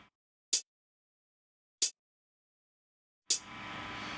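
Muted basic closed hi-hat sample from a Metrum drum synth sounds twice as short isolated ticks, then a third hit opens into a longer wash of noise that hangs on.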